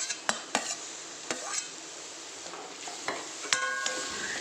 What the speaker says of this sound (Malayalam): തക്കാളി കൂടി ചേർത്ത് നന്നായിട്ട് ഇളക്കിയിട്ട് നമുക്കിതൊന്ന് മൂടി വയ്ക്കാം